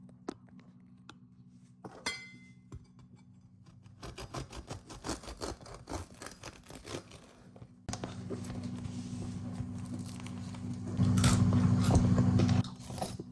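Biting and chewing a warm loaf of crusty bread, close crunchy crackling bites and rubbing that grow louder and denser toward the end, with no talking.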